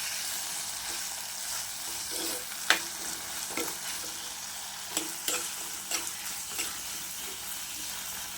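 Onions, shallots, snake gourd and green chillies for a prawn theeyal fry in a pan with a quiet, steady sizzle. Occasional sharp clicks of a spoon scraping and stirring come through, and no one speaks.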